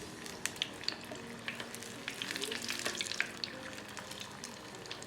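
Shrimp for bang bang shrimp fry in a hot pan, giving a steady crackling sizzle with scattered sharp pops throughout, close and moderately loud with no talking.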